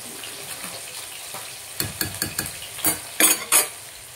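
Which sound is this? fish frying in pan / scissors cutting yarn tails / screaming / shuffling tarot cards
fish frying in pan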